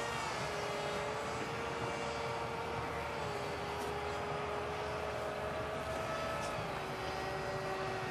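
A model airplane flies with a steady high engine drone that shifts slightly in pitch, heard continuously at moderate distance outdoors over wind noise.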